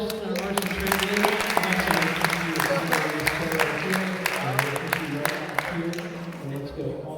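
An audience at a high school prom stage hypnosis show breaks into sustained applause and cheering, dense clapping throughout with voices mixed in.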